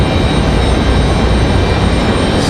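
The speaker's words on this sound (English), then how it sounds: "So an A321 here from Delta coming in from JFK" A Delta Airbus A321 arriving from JFK at Raleigh-Durham airport gives a loud, steady broadband jet roar that stays constant and close the whole time, with no voices.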